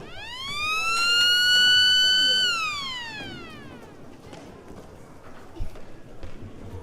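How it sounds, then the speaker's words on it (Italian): A loud electronic siren rises, holds and then falls away at a roller hockey match in an indoor rink, signalling play to restart, followed by background hall noise and a few knocks. "Sirena dice che si può ripartire"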